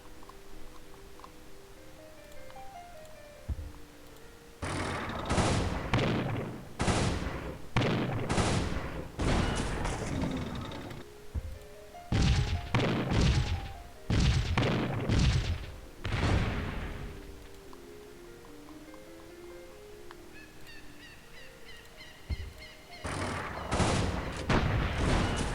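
Lancaster bombers strike a road on an open plain in Civilization III, rapid bursts of explosive bombing that come in loud clustered volleys between quieter stretches of game music.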